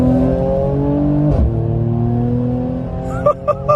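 A Mercedes-AMG C43 in Sport Plus mode revs with a steady, loud engine drone from inside the cabin, rising in pitch, then a brief shift dip and a few sharp pops or gear changes near the end.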